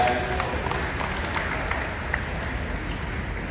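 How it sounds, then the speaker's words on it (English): Audience applause and crowd noise at a Michigan State University horse pull in 2023, a steady broad wash of many hands clapping outdoors that holds evenly through the moment, with no individual claps standing out. "Let's give them a big round of applause."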